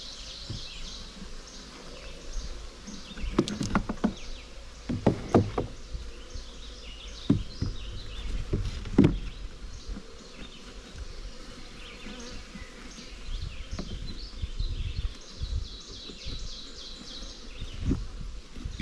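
Honey bees swarm around an open homestead beehive stacked with frame boxes, a steady dense buzzing throughout with a few sharp knocks and thumps from handling the hive close by; no talking.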